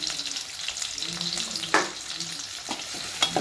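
Tomatoes sizzle in a pan for chicken curry, a close and continuous fry noise with a handful of sharp utensil scrapes and taps as they are stirred.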